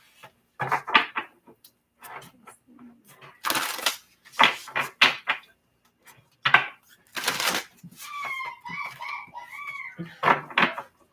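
Tarot cards being shuffled by hand, bursts of riffling and snapping card noise in uneven clusters, close up, with faint chirping in the background.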